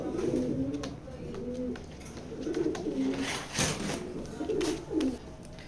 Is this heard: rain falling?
no